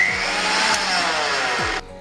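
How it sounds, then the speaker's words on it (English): A blender whirs steadily at high speed, puréeing a creamy pea and potato soup with mint, loud and continuous for nearly two seconds before the motor winds down and cuts off. "Once it is cool, then transfer it into a blender"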